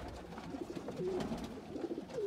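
Golden Kamagar breeder pigeons, paired adult birds, cooing softly and repeatedly at close range, a low rolling coo with no talk.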